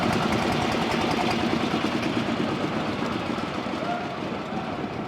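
A potato digger machine's engine runs steadily and loudly throughout, a dense continuous rumble with no pauses.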